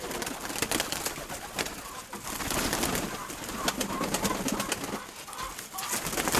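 A flock of pigeons coos and flutters around a yard, a steady dense mix of soft calls and occasional wing clatter close by, with no one talking.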